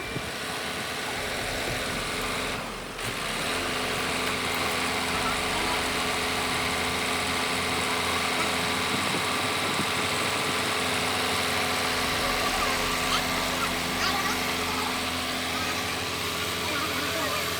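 A new Yanmar 4JH4 diesel engine running steadily aboard a sailboat, a constant close droning hum with a brief dip near the start and no talking.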